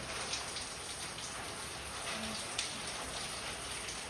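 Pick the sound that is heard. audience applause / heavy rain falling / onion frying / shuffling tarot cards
heavy rain falling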